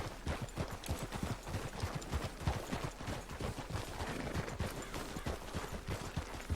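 Steady clip-clop of several horses' hooves trotting together in Red Dead Redemption 2, continuous and fairly close, with a busy rhythmic patter and no talking.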